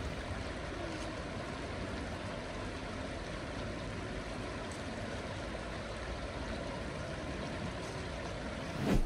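The Neckar river flows past steadily, a faint, even wash of moving water that continues unbroken with no voices, ending in a brief soft bump.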